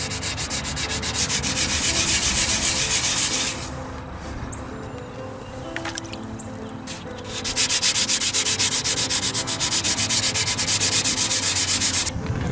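Hand sanding of a car's clear coat with 400 grit sandpaper, a steady rapid rasping scrub that runs loud for several seconds, pauses briefly, then resumes just as strong.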